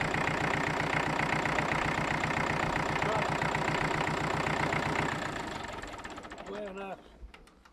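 An old tractor engine chugs steadily at idle with a rhythmic knocking pulse, then fades out near the end as faint voices come in.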